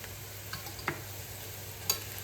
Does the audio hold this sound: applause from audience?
no